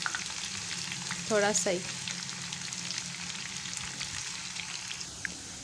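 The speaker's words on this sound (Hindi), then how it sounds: "बस थोड़ा सा इसको फ्राई करना है" Chopped onion sizzles steadily in hot oil in a pan for saag tadka, a soft continuous frying hiss with a brief stir partway through and a few quiet words spoken over it.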